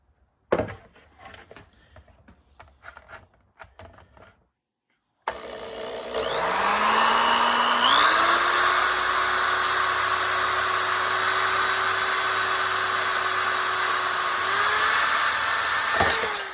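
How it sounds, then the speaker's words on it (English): A power drill with a 19/32-inch bit whirs up to a steady, loud high-pitched drone and runs continuously, boring a hole for a power switch in a Hyundai Santa Fe interior, following a few seconds of faint clicks and handling noises. "This larger 19/32 drill bit will be the one that actually makes the hole for the switch."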